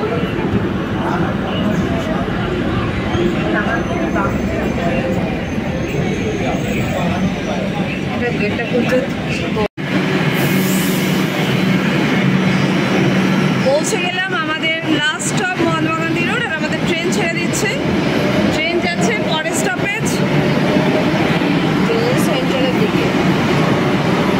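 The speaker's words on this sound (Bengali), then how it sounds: "ট্রেন ছেড়ে দিল গিরিশপার্ক থেকে, আর নেক্সট স্টপেজই হচ্ছে মহাত্মা গান্ধী রোড স্টেশন।" A Kolkata Metro train pulls out of Girish Park station with a loud, steady rumble and rail noise from inside the carriage, as someone talks over it and passengers murmur around him.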